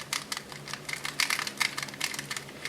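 Quick, light plastic clicking and rattling in irregular bursts, close and fairly quiet, as the pieces of a lubricated, spring-tensioned Rubik's cube are turned rapidly.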